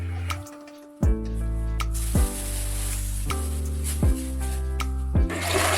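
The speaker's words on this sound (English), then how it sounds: "Place the bottle into the toilet and make a few sharp pushes." A cut-off plastic bottle is pumped into a clogged toilet with about five sharp, evenly spaced watery plunges, roughly one per second, over steady background music.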